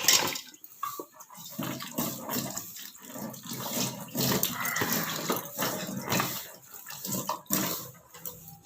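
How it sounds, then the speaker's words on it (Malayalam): Banana leaves rinsed under running water, with steady splashing and trickling close by and a few louder sloshes, no talking. "നമുക്ക് ഈ വാഴയില കഴുകി എടുത്തിട്ട് ഇത് പുറത്തിങ്ങനെ വയ്ക്കാം"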